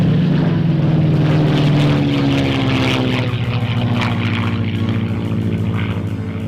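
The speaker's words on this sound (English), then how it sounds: "Here's our second pass, the Spitfire and the Mustang from the left." Spitfire and Mustang propeller warbirds making a flypast at an airshow in London, Ontario: a loud, sustained piston-engine drone with falling pitch as the planes pass, fading slightly toward the end, no talk.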